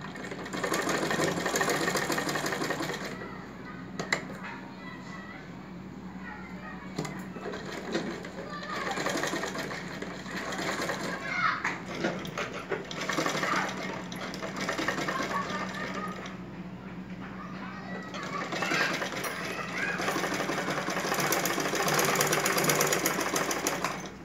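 Sewing machine running steadily as two pieces of a prince-cut blouse are joined, a continuous close mechanical whirr with brief pauses and bursts over about twenty-four seconds, while someone talks over it.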